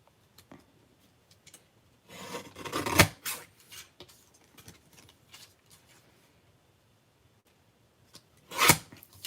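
A guillotine trimmer slicing excess paper, two short scraping cuts standing out from quiet handling noise, close and moderately loud.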